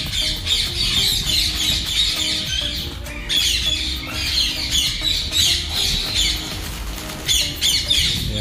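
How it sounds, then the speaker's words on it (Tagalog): Flock of ring-necked parakeets squawking continuously in harsh, overlapping calls, close and loud throughout, with a few brief dips between bursts. "Ayan, ibibidyo po natin yung mga ring neck."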